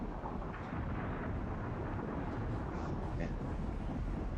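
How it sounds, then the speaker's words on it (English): Thunderstorm ambience in a racing game, a deep continuous rumble of thunder and wind filling the whole stretch, steady and enveloping with faint higher rustles, no talk. "That storm in this game sounds really wicked."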